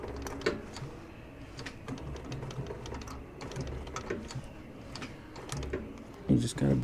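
Sewing machine without reverse stitching shoe material, a soft rapid needle chatter running in short bursts beneath a person talking, with occasional clicks and handling knocks.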